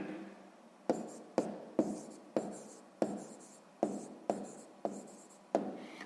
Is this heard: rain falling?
no